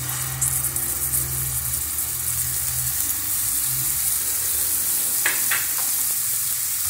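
Steady, loud sizzling of garlic frying in a hot pan, with a low hum early on and a couple of brief clinks near the end.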